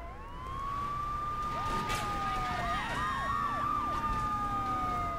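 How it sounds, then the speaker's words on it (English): A wailing police siren in Grand Theft Auto III sweeps up and down continuously, loud and close, with steady engine-like rumble beneath. "This siren, man."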